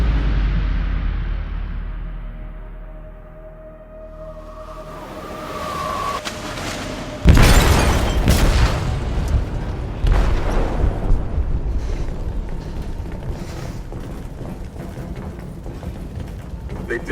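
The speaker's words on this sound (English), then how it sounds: "They detonated an explosive in the hold." An explosive goes off in a ship's hold in the video game Detroit: Become Human, with a sudden heavy boom after a low rumble, followed by crashing debris, further bangs and continuous turbulent noise.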